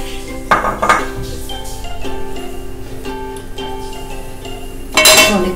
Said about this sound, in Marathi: आता आपण याच्यावर आधी दाणे आपले जे आहेत शेंगदाणे ते फ्राय करून घेणार आहोत